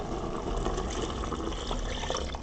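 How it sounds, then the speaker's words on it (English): Water poured into a cooking pot of Jamaican brown stew chicken with seasonings, a steady faint splashing stream continuing throughout. "we're just about to add some water now"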